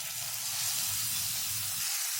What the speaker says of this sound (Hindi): जब आपका तेल गर्म हो जाए तो जो हमने चिकन मैरिनेट की थी वो इसमें ऐड कर देंगे